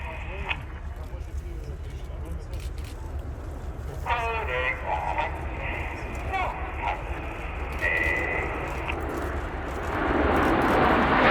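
Red Arrows jets fly in chevron formation at the Royal International Air Tattoo, a distant engine roar that swells toward the end beneath a commentator's voice and crowd noise.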